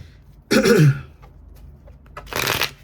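Tarot cards are shuffled in two close bursts of quick riffling, a louder one early and a softer one near the end, with no talk over them.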